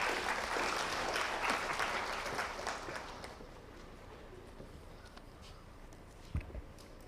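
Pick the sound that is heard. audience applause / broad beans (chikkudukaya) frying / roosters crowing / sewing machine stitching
audience applause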